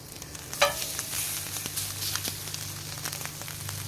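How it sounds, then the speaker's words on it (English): Sous vide New York strip steaks sear on a hot griddle with a steady close sizzle and crackle, a sharp hiss burst as one lands, then continuous frying. "So we're going to try a sear of one of these directly on the griddle"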